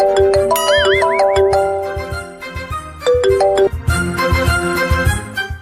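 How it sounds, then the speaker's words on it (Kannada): An incoming call rings on a mobile phone in a Kannada TV serial scene, a loud electronic ringtone melody with a horse-whinny-like warble that plays, briefly drops, then resumes, with no talk over it. "ಈ ನಂಬರ್ಗೆ ಫೋನ್ ಬರ್ತಿದೆ"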